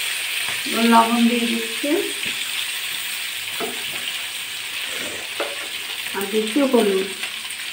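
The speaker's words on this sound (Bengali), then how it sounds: "আলু আর শিমটা ভালো করে ভেজে নেব।" Potatoes and flat beans sizzle and fry in a pan, a steady hiss under a voice speaking, with occasional stirring clatters.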